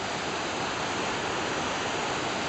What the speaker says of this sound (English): the first of many beautiful waterfalls along this route